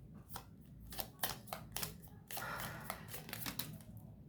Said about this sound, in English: while I'm shuffling this